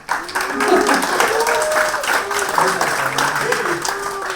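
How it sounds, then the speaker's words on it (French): Audience applause at a salon event with a screening and round-table, steady clapping from a crowd with voices talking over it throughout. "Ah bon, on peut applaudir."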